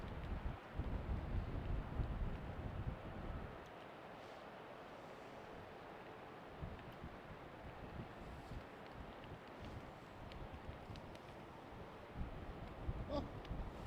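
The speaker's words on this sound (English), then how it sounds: "the wind speed's also picking up" Winter wind at Schiphol airport buffeting the microphone, rough gusty rumbling that is heavy at first, then steadier and softer.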